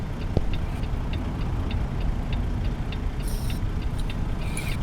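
Steady engine drone of a truck driving in American Truck Simulator with the windows down, a continuous low rumble filling the whole stretch, with faint ticking of a turn-signal blinker on top and no talk.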